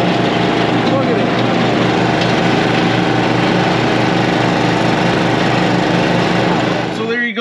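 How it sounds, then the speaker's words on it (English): A John Deere lawn mower engine runs steadily and loudly at close range with a constant droning hum throughout, then cuts off abruptly at the very end. "So there you go, the lawnmower's working great"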